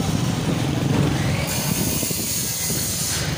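Busy street traffic in a Multan market, with motorcycles and other vehicles passing in a continuous noisy wash of engines and hiss, close and steady, without clear speech.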